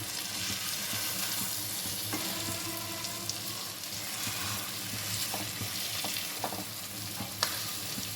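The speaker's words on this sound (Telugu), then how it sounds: "ఎగ్ ఒకవైపు వేగిపోయిందండి. ఇప్పుడు రెండో వైపు కదలకుండా ఈ విధంగా తీసేసి టర్న్ చేసుకోవటం." An egg fries in oil in a pan, seasoned with masala, salt and chili, for egg masala curry: a steady close sizzle and crackle runs throughout, with occasional small pops and utensil sounds, and no talking.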